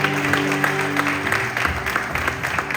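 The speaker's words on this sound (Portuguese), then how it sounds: "Aplauda o Senhor com alegria." A church congregation clapping in praise, a short burst of dense rhythmic hand claps over a music backing.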